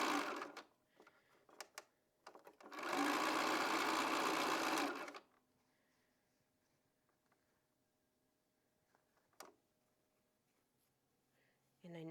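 A sewing machine stitches quilt pieces together in one close, steady burst of about two seconds, preceded and followed by quiet handling noises and faint rustling.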